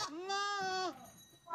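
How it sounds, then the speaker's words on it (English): A billy goat bleats once in a loud, wavering, drawn-out call up close, followed by a quieter tail and a brief second sound starting at the end. "Billy goat."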